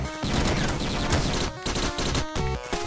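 Rapid automatic gunfire in the video game Downfall, firing purchased ammunition, dense bursts of shots with brief gaps between volleys, loud and close, set against tonal game sound effects.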